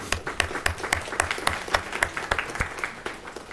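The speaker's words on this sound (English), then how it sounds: "Let's give him a round of applause." A city council meeting audience claps in a round of applause, a dense spatter of hand claps at moderate level, fairly close, with no talk over it.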